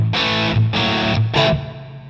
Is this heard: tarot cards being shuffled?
no